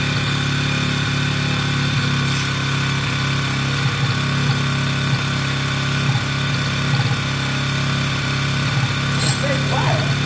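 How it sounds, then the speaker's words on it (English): A WK RT 125 motorcycle engine runs steadily with the choke on, a close, even droning hum with a strong low pulse, while people talk over it. "Choker's on. Let it run, Simon."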